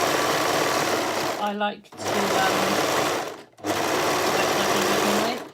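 An overlocker runs close up along the edges of lining pieces in three fast whirring bursts, each cut off by a short pause, while a voice speaks briefly over the second burst.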